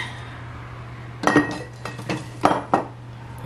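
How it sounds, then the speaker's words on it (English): Spoon scraping and clinking against a cooking pot as a Cabernet Sauvignon mixture is stirred, several distinct knocks and scrapes over a low steady hum, close and fairly loud, with no talking. "Let's stir that up."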